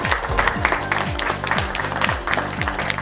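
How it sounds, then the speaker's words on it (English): An audience clapping steadily, a moderate crowd applauding, with a repeating low tone playing underneath. "I want to have a huge round of applause for our gurus"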